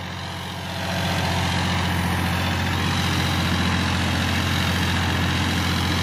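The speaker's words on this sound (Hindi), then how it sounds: "देखो मुड़ने में परेशानी हो रही है ट्रैक्टर को" Massey Ferguson 9500 Smart 4WD tractor working a field with a cultivator in soft soil, its diesel engine revving up in the first second, then holding a loud, steady, close drone.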